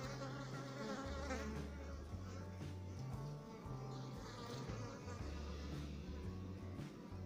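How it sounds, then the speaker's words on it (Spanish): Many bees buzz in a dense, continuous drone close by around fallen anona fruit in El Salvador, their overlapping hums wavering in pitch with no talking. "miren cuántas abejas"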